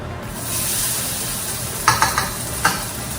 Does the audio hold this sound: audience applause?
no